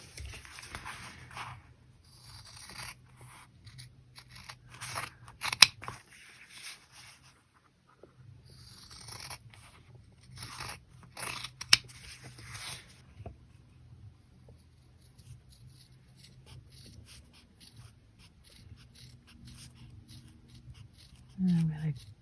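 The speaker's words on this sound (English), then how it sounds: "I'm just going to use scissors." Scissors snip through leather in short bursts of crisp cutting sounds, separated by quiet pauses, close by, with faint rustling between cuts.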